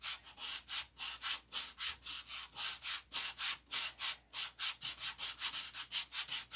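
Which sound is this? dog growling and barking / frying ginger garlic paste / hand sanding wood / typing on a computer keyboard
hand sanding wood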